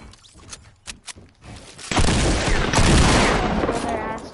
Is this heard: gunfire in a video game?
yes